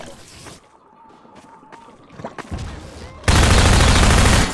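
Automatic gun turret firing in Half-Life 2 Episode 2: a few scattered shots lead into a sudden, very loud, continuous burst of rapid fire that dominates the last second or so, following quieter game sounds.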